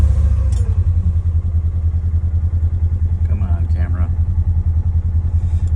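A Polaris off-road vehicle engine runs with a steady, pulsing low throb, close and loud throughout, with faint clatter and brief talking in the background.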